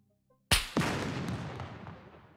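A single pistol shot fired in the survival video game SCUM cracks sharply and loudly, followed quickly by a second report and a long, fading reverberant tail.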